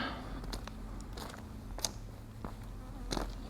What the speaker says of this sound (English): as I battle